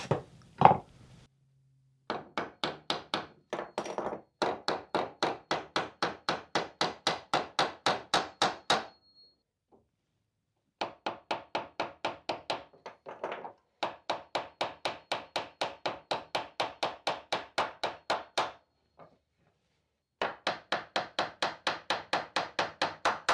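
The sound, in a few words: tapping V-nails into a picture frame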